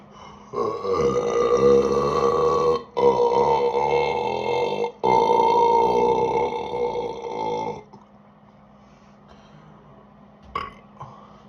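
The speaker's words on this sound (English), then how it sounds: "Burping, belching" Long, loud, deep burps follow shotgunning cans of Dr Pepper Zero Sugar, three drawn-out belches in a row, each a few seconds long, then a short quieter burp after a pause.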